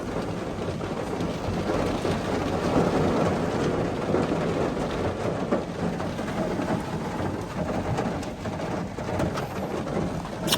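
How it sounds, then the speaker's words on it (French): Heavy, steady rain pours down during a thunderstorm on a hike in Australia, a dense continuous hiss with low thunder rumbling beneath it throughout. "Là, ça commence vraiment à pleuvoir."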